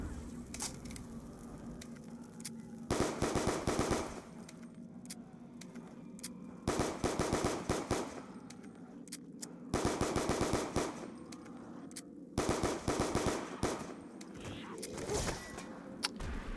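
Automatic gunfire from the Black Ops 2 video game rips out in about five loud, rapid bursts separated by short pauses, over steady in-game background noise.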